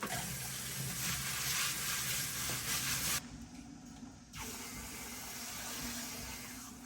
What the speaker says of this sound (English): it's time to wash the gravel. So I'll spend a few minutes running this through my strainers